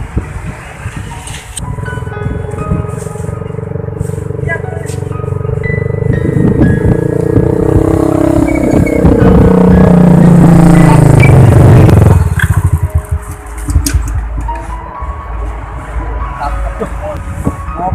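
An old, worn-out motorcycle engine idles and revs up loud and close, rising to a sustained high drone before cutting back abruptly, with rattling clatter and people talking over it.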